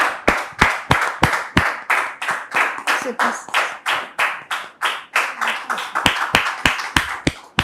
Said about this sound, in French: on la reçoit sous vos applaudissements